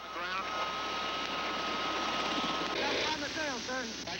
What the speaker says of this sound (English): 2 Sikorsky's constantly patrol the border.